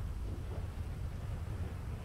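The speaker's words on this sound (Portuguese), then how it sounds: "Tá chovendo demais," Heavy rain roars steadily in GTA 5 with a deep, continuous rumble of thunder underneath, dense and unbroken throughout.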